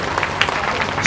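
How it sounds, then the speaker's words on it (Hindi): Audience applause at a Shrimad Bhagwat Katha religious discourse in a village, a steady wash of many hands clapping that fills the short moment, with no clear voices over it. "ताली बजाते रहिए"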